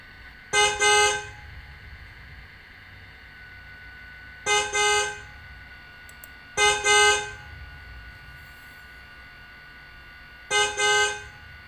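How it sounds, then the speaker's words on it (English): Car horn honks four times, loud and clear, each blast short and doubled or single, separated by a few seconds of near silence. "It's a car."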